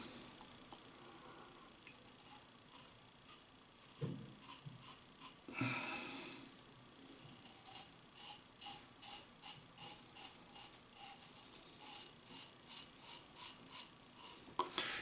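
A PAA Starling aluminium safety razor scrapes across stubble in a traditional wet shave, giving a run of close, rhythmic rasping strokes with a few louder passes, quiet and without talk.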